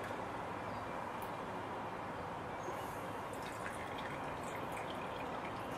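Fork oil pours steadily from a GP Suspension 25mm motorcycle fork into a drip tray, a continuous close liquid trickle and splash with faint drips, heard alone.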